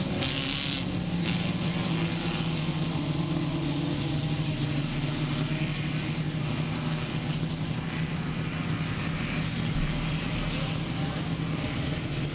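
Race cars roar around an oval track in New England, among them two yellow cars running one-two. The engine drone is dense and continuous, holding a steady loud level throughout.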